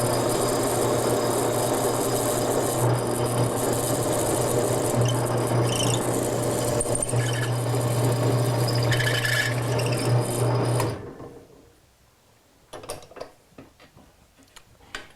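A drill bores through a wooden blank in a woodworking shop, a steady grinding whir with a low hum that runs for about eleven seconds, then cuts off, leaving faint clicks and handling noises.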